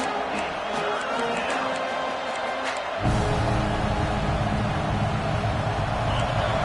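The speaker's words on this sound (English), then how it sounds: "It's early, but this crowd is fired up. Listen to this noise here." Stadium crowd at a college football game, a broad roaring wash of noise that swells louder about halfway through and holds steady, with talk over it.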